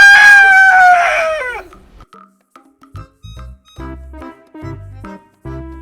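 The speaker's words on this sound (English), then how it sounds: "It's a chicken. Chickens live on farms and they lay eggs." A rooster crows loudly and close, then a chicken clucks in short, irregular bursts.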